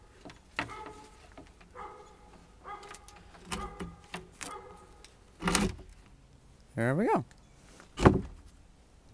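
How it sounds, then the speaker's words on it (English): A door on a small battery shed being closed, giving a few short thuds and scrapes followed by louder knocks and rattles near the end, close by, with someone speaking briefly. "to close the door."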